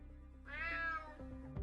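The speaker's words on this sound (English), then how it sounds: "Damn cat." A single rising, drawn-out cat meow cuts in from the UnMetal video game, clear and fairly close, over a low steady hum of game music.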